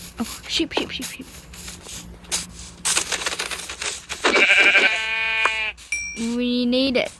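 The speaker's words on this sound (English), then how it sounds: "Oh, sheep." Blocky sheep bleats from Minecraft, several short wavering calls in the latter half, mixed with game sounds and a person talking over the play.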